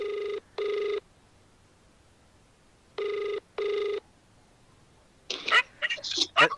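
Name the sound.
phone ringing while calling the driver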